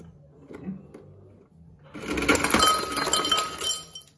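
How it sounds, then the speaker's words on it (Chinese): Ice cubes tumble into a glass for a gin and tonic, a busy burst of bright clinks and rattles after a quieter start. "冰块。"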